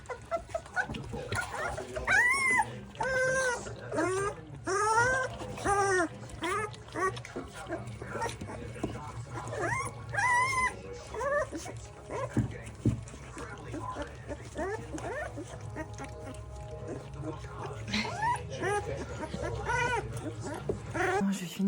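Puppies whimper and yip in high, thin bursts close by, mixed with scattered louder barks while people talk softly in French over a faint background hum.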